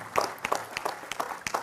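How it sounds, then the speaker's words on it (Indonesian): Audience applause at an Indonesian public talk, with brief, uneven bursts of hand clapping from a crowd over under two seconds. "Tepuk tangan untuk beliau."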